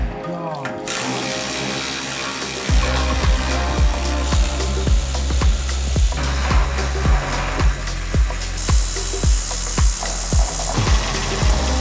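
A ratchet wrench removes bolts from the front bumper of a 1965 Mustang, clicking in a quick, even series of sharp strokes up close, with someone talking over the work.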